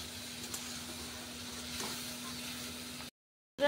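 Bottle gourd pieces go into a hot pan of frying pea-lentil fritters, giving a steady, moderate sizzle and hiss with no talking, before a short silence and a louder clatter at the end.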